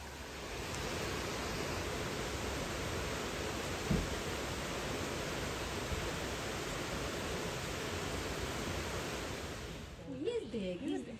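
A stream at a water source beside an Appalachian Trail shelter makes a steady, full rushing wash close by, and a voice briefly speaks as the sound ends.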